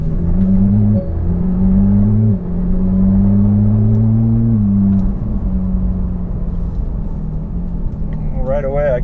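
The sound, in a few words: Porsche 911 GT3 exhaust with valves opened, driving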